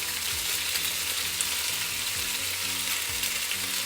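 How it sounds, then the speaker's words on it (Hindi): Boiled pasta tossed with pesto sauce in a pan with garlic, a steady close sizzle and wet stirring noise throughout. "अच्छे से मिक्स कर लेंगे"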